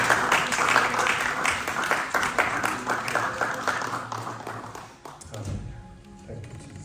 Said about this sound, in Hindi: सभी तालियां बजाकर परमेश्वर का धन्यवाद करें.